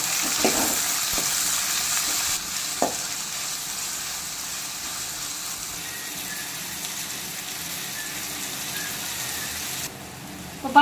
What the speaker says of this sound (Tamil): இப்போ பார்த்தீங்கன்னா தக்காளி நல்லா வதங்கி வந்துருச்சு.